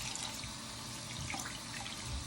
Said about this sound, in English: And then I just run it underwater and I just clean it.